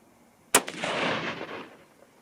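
A Remington 700 BDL rifle in .243 Win fires a single loud, sharp shot outdoors, followed by a long rolling echo that fades over more than a second.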